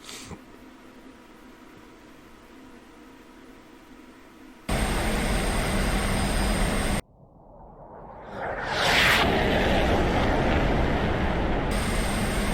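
MiG-15 jet fighters fly in a flight-simulator game, a steady jet engine whoosh that cuts abruptly between segments, then swells into a louder roaring rush, with no talk.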